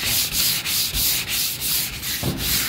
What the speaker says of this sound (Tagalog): 240 ang liha na ginamit namin para hindi gaano masusugatan halos ang yero.